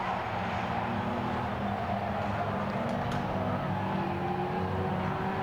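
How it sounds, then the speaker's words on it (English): Historic Austin A40 racing cars stream past at Silverstone, a continuous distant blend of engine drone and passing whoosh at a fairly faint level, with no break in the flow. "And the cars all pouring through."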